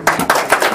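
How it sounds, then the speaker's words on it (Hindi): A small audience gives brief, quick applause after a self-composed song, a short burst of several close, rhythmic hand claps. "तालियां"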